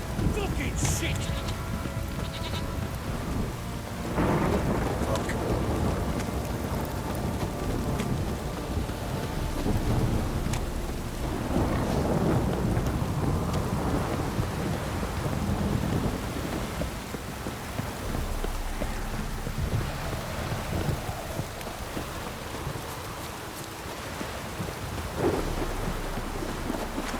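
Heavy rainstorm with thunder in The Witcher 3: continuous drumming rain over repeated deep rolling thunder rumbles, with voices briefly talking amid the storm.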